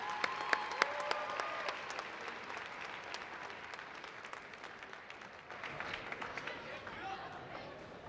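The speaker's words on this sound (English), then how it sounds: "So we'll give them a round of applause." Audience applause at a Brockton High School presidential visit event, welcoming a choral group about to sing the U.S. national anthem; steady clapping fills the whole stretch, moderately distant, with a faint voice partway through.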